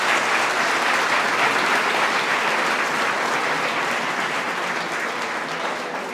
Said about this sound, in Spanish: vamos a darle un aplauso a él porque él es obediente